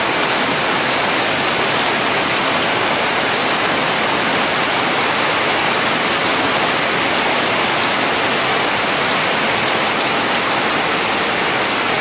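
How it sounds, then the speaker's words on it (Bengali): Heavy rain pours down in a dense, unbroken roar that stays loud and even throughout, with no voices. "আর এখন এমন বৃষ্টি দিছে"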